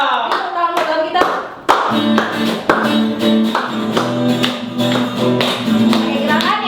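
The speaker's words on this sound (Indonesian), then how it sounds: "Tepuk tangan buat Tuhan kita." Hands clap along in a steady rhythm during a children's Sunday school worship service, with sharp, repeated claps sounding over music and singing voices.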